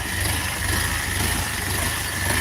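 A minitractor (a 450 with forced hitch) runs steadily at idle, a continuous low engine drone with vibration and no break in level throughout.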